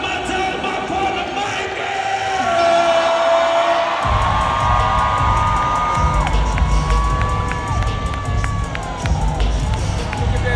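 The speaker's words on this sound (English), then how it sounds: "Make some motherfucking noise right now" A large crowd at a live comedy tour show roars and cheers with whoops and shouts. The noise is loud and sustained and swells partway through, while a voice shouts over it.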